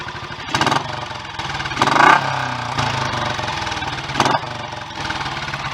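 Royal Enfield 500 single-cylinder motorcycle engine running steadily, its exhaust giving a close, loud, even thump with a few sharp blips of revving.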